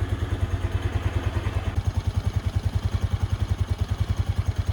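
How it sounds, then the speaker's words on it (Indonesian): A Kymco Metica scooter engine catches and settles into a smooth, rhythmic idle, close and steady, with its regular low putter dominating throughout. "Kita sekarang coba nyalain motornya."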